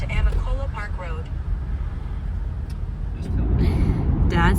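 Car interior on a drive up toward Amicalola, with steady low road and engine rumble filling the cabin as people talk over it.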